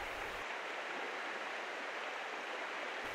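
Steady broadband rush of the North Branch of the Oconto River in northeast Wisconsin, a trout stream, flowing continuously and fairly quietly throughout with no voices.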